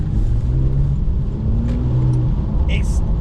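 Porsche 911 991.2 GTS with PDK gearbox pulling away hard from a standstill, a steady loud engine rumble rising with a faint higher whine toward the end, close by inside the car.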